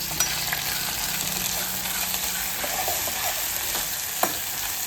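Cinnamon, cloves, peppercorns, ginger and garlic fry in a little oil, giving a close, steady sizzle with soft stirring scrapes and a sharper knock near the end.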